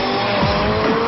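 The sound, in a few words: car engine with turbo noise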